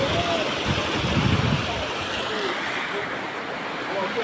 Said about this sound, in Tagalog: Ang lakas ng agos ng tubig guys.